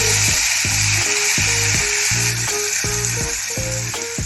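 A paste of onion, ginger and green chilli frying in hot oil, sizzling steadily with rhythmic scraping strokes of a spoon stirring it in the pan, close and loud.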